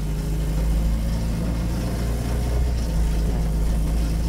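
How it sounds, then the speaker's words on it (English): A Sunbeam Alpine with a factory automatic transmission pulls away, its engine giving a steady, loud, low drone that runs continuously throughout with no talk. "let's see how it drives with this automatic transmission"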